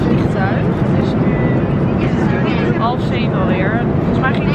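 Steady broadband roar of airplane cabin noise during a flight to Barcelona, continuous and loud throughout, with faint voices or chatter layered over the drone.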